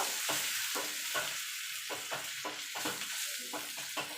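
Bottle gourd peel frying with onion and green chili in a pan gives a steady sizzle, broken by bursts of stirring scrapes at a regular pace. The sound is close and clear, with no voices.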